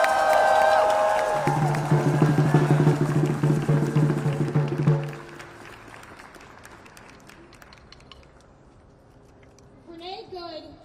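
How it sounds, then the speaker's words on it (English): A crowd at a live event applauds a speaker, a lawyer and volunteer, with loud sustained clapping and cheering that fades after about five seconds before a voice begins. "Let's give Anika a round of applause."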